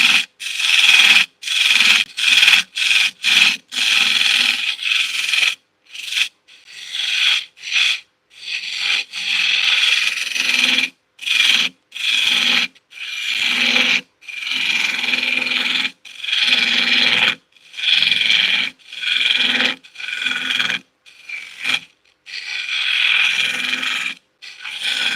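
A skew chisel shaves wood on a spinning lathe in repeated rasping passes, each a dry scraping burst broken by short pauses, close and fairly loud throughout with no talking.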